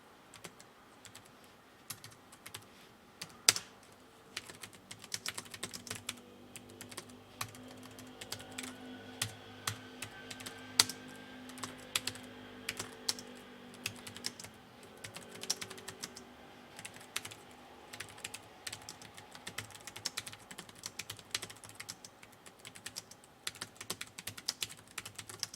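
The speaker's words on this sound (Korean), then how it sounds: "타이핑 같이 쳐주세요" Steady typing on a computer keyboard during a word-processor exercise, irregular close clicks and key taps running continuously with occasional louder strokes, no talking.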